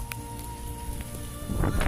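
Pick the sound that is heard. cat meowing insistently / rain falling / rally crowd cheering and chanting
rain falling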